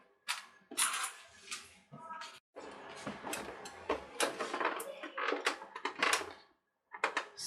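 A sewing machine stitches fabric for a crochet hook roll, running in quick bursts of rapid mechanical clatter separated by brief pauses, close and clear.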